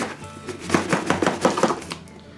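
A knife slices open a cardboard box containing a stove fan, making a quick run of about eight sharp, close scraping cuts that stop abruptly.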